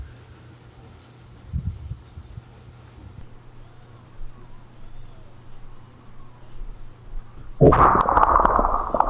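A single sharp rifle shot from a 17 WSM cracks out near the end while prairie dog hunting, following several seconds of quiet outdoor background.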